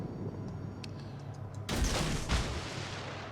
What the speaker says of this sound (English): Firing at the Wyoming.